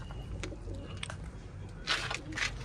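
Pigeons coo softly a few times amid faint background noise, with a brighter burst of calls near the end.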